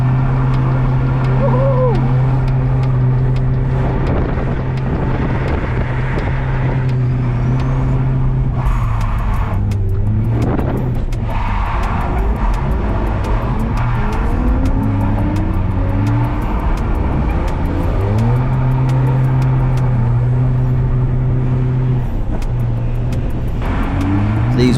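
Race cars lap a wet track, a Mazda MX-5 among them, with steady engine drone that shifts pitch through gear changes and throttle lifts, plus turbo flutter. The sound is loud and continuous and runs throughout the whole stretch.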